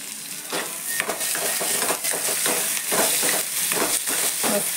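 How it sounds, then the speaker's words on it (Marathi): Chopped tomato and browned onion sizzle and fry in a pan while a spoon stirs them, giving a steady close hiss with repeated scraping strokes throughout and no talking. "टोमॅटो लगेच भाजला जातो"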